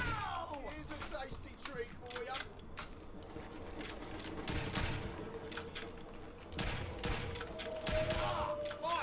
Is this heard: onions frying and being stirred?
no